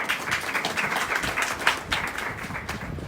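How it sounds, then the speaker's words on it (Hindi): A crowd claps steadily through a devotional Hindi gathering honoring a Vaishnava guru, dense overlapping hand claps at moderate volume with one sharper accent near the middle, no speech over it. "ताली कर जाओ।"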